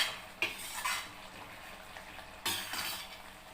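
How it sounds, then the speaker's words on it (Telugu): Chili powder being stirred into potato masala curry in a pot, with a spoon clinking and scraping against the metal in a few sharp knocks, then a soft gritty churning between them. No one speaks. "కారం వేసి బాగా కలపాలి."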